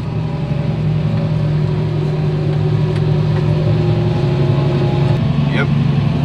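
A loaded truck rolls off-road over dusty farm ground, its engine giving a loud, steady drone with a constant low rumble and no clear gear changes.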